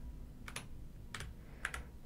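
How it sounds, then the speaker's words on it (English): Arrow keys tapped on a computer keyboard while a simple snake game runs, giving three short pairs of clicks spaced roughly half a second apart over a quiet background hum. "So you can see I'm using my arrow keys on my keyboard here."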